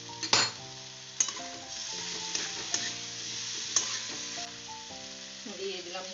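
Pumpkin curry sautéed in a pan with very little water, a soft steady sizzle with scattered clinks of a spoon or spatula against the pan and a few sharper knocks, close by, with some music-like tonal sound running underneath.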